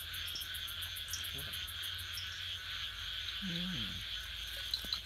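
Frogs call at night over a steady high insect drone, with a short croaking burst standing out in the middle and faint scattered calls around it, a continuous nocturnal chorus with no talking.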